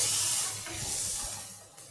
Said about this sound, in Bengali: দেখুন আমার পেঁয়াজ লঙ্কা এগুলো ভাজা হয়ে এসেছে